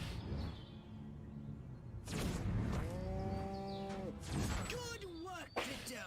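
Several drawn-out cow moos from a video game rise and fall in pitch, with a rustling, crunchy game background beneath them. A voice speaks faintly near the start.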